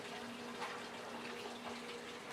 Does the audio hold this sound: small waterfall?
yes